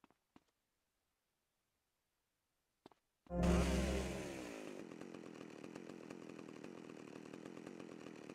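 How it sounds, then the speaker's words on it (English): A chainsaw in the video game GTA Vice City starts after a few faint clicks, bursting into a loud rev, then settling into a steady buzzing idle. "got a chainsaw"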